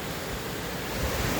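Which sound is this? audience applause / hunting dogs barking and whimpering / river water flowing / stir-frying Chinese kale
river water flowing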